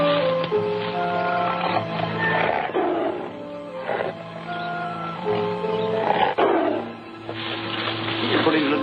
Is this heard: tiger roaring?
yes